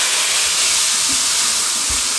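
Hot oil tempering for dal palak sizzles and hisses loudly and steadily as it is poured, a dense crackling wash that holds without a break.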